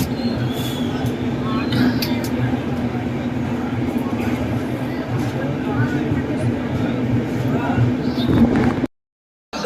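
Rajdhani Express arriving at Agra Cantt station, a steady loud rolling rumble of coaches with faint squeals and station noise throughout, ending abruptly in silence.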